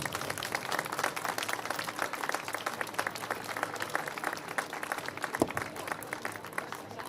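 A crowd at a half-marathon award ceremony claps steadily on stage in memory of a runner, continuous moderately distant applause with one sharp knock partway through.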